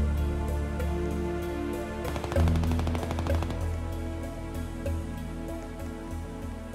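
Rapid bursts of automatic gunfire in a Roblox DarkRP shooter game, dense repeated shots clustered in the middle, fairly loud against a steady background hum.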